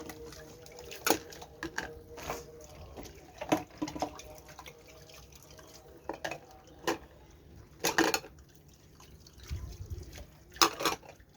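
Small dishes clink and knock as they are handled near running water, with scattered light taps and a few sharper ceramic clatters over a steady wet background, without speech.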